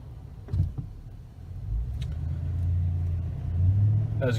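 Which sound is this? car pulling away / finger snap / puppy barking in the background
car pulling away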